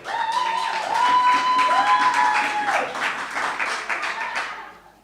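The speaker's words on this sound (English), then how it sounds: "Give me a round of applause again" Audience applause at a Lions Club school speaking event in St Vincent, a steady crowd round of clapping that holds for several seconds before tapering off, with a few sustained whistle-like tones or cheers riding above it.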